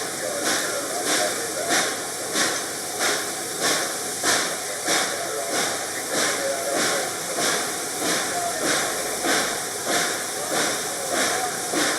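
Reading & Northern steam locomotive 2102 slips its drivers on a curve, giving a loud, sharp hiss of escaping steam with rapid, rhythmic chuffing pulses that repeat steadily throughout, heard close from the cab.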